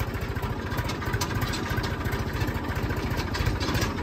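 A tractor engine runs steadily at idle, a loud, close, continuous low rumble with a regular throb throughout and no talking.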